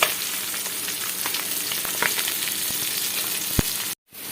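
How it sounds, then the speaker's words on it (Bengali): Tangra fish fry in a pan with a steady, dense sizzle of hot oil, close and fairly loud, with a few sharper pops and crackles before the sound cuts out briefly near the end. "আজকে প্রথমবার আমি ট্যাংরা মাছ ভেজে রান্না করার জন্য নিচ্ছি।"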